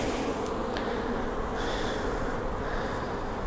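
Honeybees swarm over a hive frame on a queen-rearing grafting day, a dense, unbroken drone of many wings, loud and close throughout.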